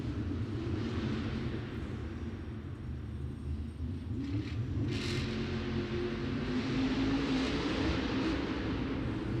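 Monster truck at a Monster Jam stadium show in Miami grinding up and over a stack of gray cars, a heavy continuous engine rumble with crowd noise washing behind it, steady and loud throughout.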